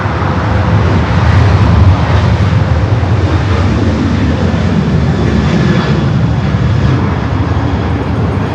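A jet airliner takes off at LAX, a loud, steady broadband engine roar holding throughout with a faint whine above it, no voices.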